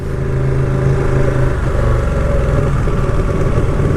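Ducati Panigale 959 Corse superbike engine while riding, a loud steady mid-pitched drone that runs continuously throughout, with the constant throb of the engine under way.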